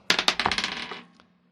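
Dice rolled behind a tabletop gaming screen during a role-playing session: a quick run of sharp clattering taps and bounces that settle and die away, close and alone.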